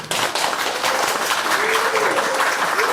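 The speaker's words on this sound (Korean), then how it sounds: "강북구 청년 일자리센터 유인경, 박선호 선생님께 큰 박수 부탁드립니다" Audience applause at a Gangbuk youth startup results-sharing event, honoring the job center's managers and staff: steady, dense clapping from a sizable indoor crowd, loud and sustained throughout with a faint voice briefly audible beneath.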